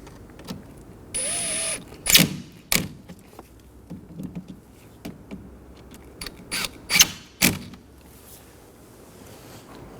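Bolts on a Ford Transit Connect washer reservoir are snugged down with a cordless driver, giving a short whirring burst followed by scattered sharp clicks and knocks of tools and plastic parts close by, with no talk.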